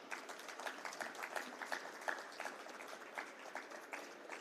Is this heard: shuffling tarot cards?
no